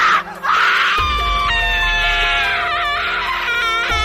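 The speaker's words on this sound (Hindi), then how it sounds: "फिर वह औरत टीना को देखकर जोरों से चिल्लाने लगी।" A woman screams loudly as a horror story sound effect, a long sustained shriek with shifting pitch over a low rumbling drone, loud and close throughout.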